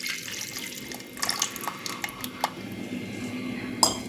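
Tamarind water being poured into a pressure cooker while cooking a narthangai pachadi, with a steady watery trickle and splash running throughout, joined by a few light clinks of a vessel.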